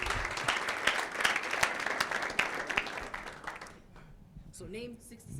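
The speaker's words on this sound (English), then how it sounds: "Guys, let's give them a round of applause." Audience applause for a group of pitchers at a pitch event: dense, loud clapping from a crowd for about four seconds, then tapering off into quieter murmur and a brief voice near the end.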